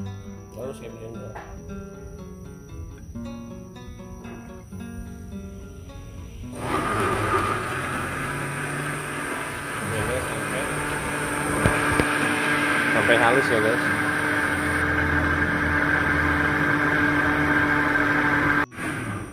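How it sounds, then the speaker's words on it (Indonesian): A kitchen blender whirs loudly as it mixes milk with strawberry yogurt, starting after a few seconds of quiet and running continuously to the end while someone talks over it. "Lalu saya blender."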